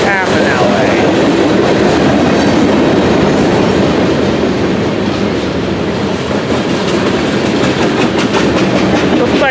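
A long freight train carrying coal cars rolls past close by, a loud continuous rumble with steady clickety-clack of wheels over rail joints throughout.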